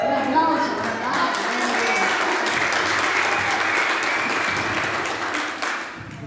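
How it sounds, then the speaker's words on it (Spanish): An audience in a church during a pastor's sermon breaks into steady, dense applause that stays loud and sustained for several seconds before tapering off near the end. "Un aplauso para acá."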